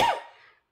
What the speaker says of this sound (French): Désolée, mais ça va arriver que je tousse